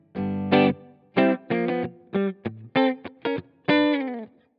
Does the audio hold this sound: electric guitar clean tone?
yes